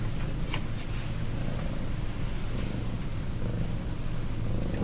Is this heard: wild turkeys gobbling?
no